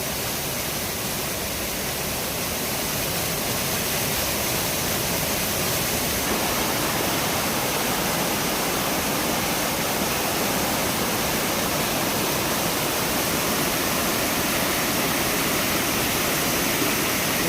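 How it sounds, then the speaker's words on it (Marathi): A flooded river in Konkan rushes loudly and steadily, a dense unbroken roar of churning water close by that swells slightly partway through and holds at full force. "पूर बघा किती आलाय."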